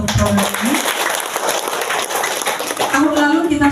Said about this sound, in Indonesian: Tepuk tangan untuk program ini.